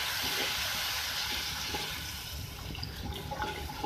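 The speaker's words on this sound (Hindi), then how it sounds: "मैंने वाटर ऐड किया इसके अंदर।" Water being poured into korma masala in a cooking pan for egg korma, a continuous close splashing and bubbling wash that eases slightly toward the end, with no voices over it.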